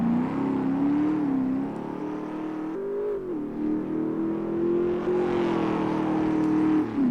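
A car engine revs hard while drifting through a corner, the pitch rising and dipping through gear and throttle changes, loud and close over about seven seconds.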